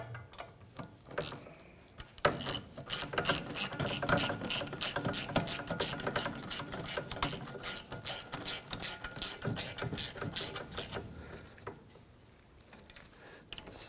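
A ratchet with a 15mm socket tightens hub bolts on a 2011-2015 Chevrolet Cruze during a rear wheel bearing job, giving rapid, close clicking in bursts that speed up and pause over about fourteen seconds.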